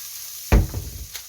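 Chili powder hits hot sesame oil with a sudden loud sizzle burst, then settles into a softer crackle as it is stirred, close by.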